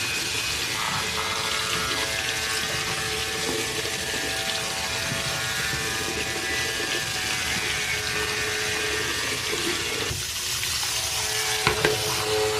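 Philips Norelco 3100 beard trimmer running under warm running tap water, a steady motor hum and faint whine blended into continuous splashing and hiss, close and moderately loud throughout.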